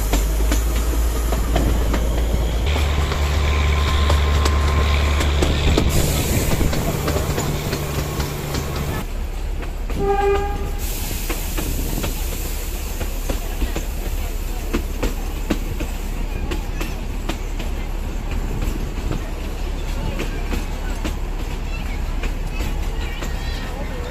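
Narrow gauge passenger train on the Bilimora to Waghai line in Gujarat, India, rumbling steadily throughout with a low droning engine and rolling wheel noise, nearby and fairly loud, with brief horn-like tones partway through.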